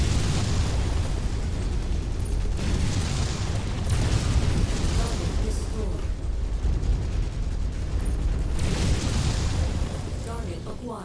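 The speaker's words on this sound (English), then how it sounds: "Someone is shooting me from the rear." Weapon fire striking a mech from behind in a MechWarrior battle, heard as a dense, continuous roar of explosive booms and rumbling impacts that stays loud throughout, with a voice talking over it.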